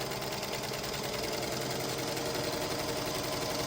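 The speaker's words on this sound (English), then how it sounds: "Continue sewing." A sewing machine stitches a shortcut star quilt block, a steady, continuous mechanical whir that runs close and loud without a break and with no talking.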